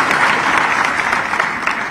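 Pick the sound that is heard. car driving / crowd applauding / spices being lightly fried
crowd applauding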